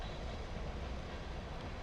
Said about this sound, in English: And yes, that's a train going by.